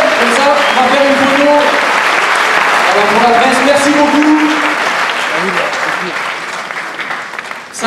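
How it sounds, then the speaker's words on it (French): Sustained audience applause at a Rugby Club Toulonnais season presentation evening at the Palais Neptune, a loud, dense clapping crowd that holds steady for several seconds before thinning out, with voices talking over it. "Bon, je vous invite à applaudir encore et à remercier."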